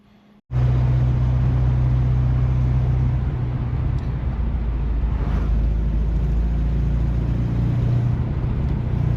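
A 1978 Datsun 620 pickup on a test drive starts up and rolls along, giving a steady, loud low engine drone and road rumble that holds for several seconds after a sudden onset, with no voices.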